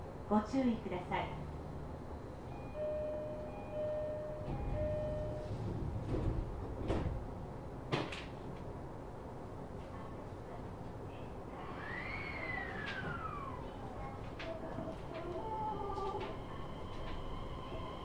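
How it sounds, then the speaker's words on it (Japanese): JR East E131 series train doors slide and thud shut amid station hubbub on the Kashima Line, with clanks, a rising mechanical whine as the train starts, and voices in the background. "ドアが閉まります。"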